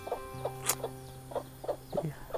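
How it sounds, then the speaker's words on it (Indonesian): Chickens cluck in short, repeated bursts close by, with a steady electronic hum running underneath. "Suara ayam."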